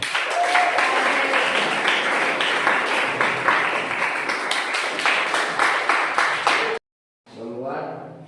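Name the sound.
audience applause and clapping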